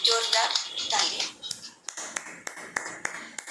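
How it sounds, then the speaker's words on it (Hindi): Scattered hand claps for a meditation teacher, a sparse series of sharp individual claps that follow a short stretch of speech and are spaced irregularly rather than forming a full round of applause. "तो जोरदार तालियां।"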